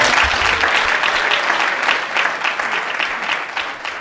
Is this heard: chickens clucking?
no